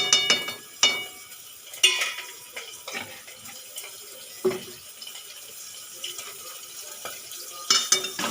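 A pan of muri ghonto, fish head cooked with Gobindobhog rice and finished with a little ghee, gets stirred, with intermittent scraping knocks of the spoon and a soft sizzle underneath, fairly quiet and close.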